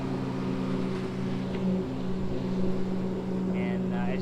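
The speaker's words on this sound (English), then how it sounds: "there's a lot of boat traffic around here." A low, steady motorboat engine rumble hums throughout, fairly close, with a faint higher whine joining near the end.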